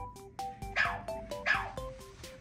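A Sony aibo robot dog, a limited-edition Espresso model, gives a string of short electronic barks and yips in a quick, uneven rhythm. It sounds close and fairly loud, and no voices are heard.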